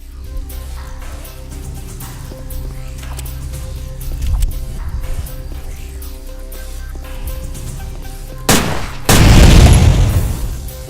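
In a video game, a sudden loud explosion bursts near the end, following a stretch of low rumbling and scattered thuds.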